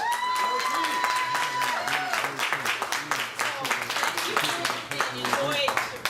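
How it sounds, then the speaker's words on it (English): An outdoor community groundbreaking audience for an urban farming event claps in a sustained round of applause, dense and continuous, with a voice speaking over it. "I want to give a round of applause again to Naveed's team for all of the hard work"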